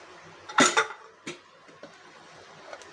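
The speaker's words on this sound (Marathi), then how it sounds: "आता कुकर गार झाला तर आपण झाकण उघडूया" A pressure cooker lid is opened after cooking masoor dal, giving one loud metallic clank followed by a few lighter knocks and rattles, close by in a quiet kitchen.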